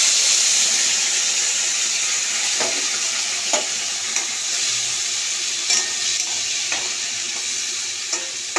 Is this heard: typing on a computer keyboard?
no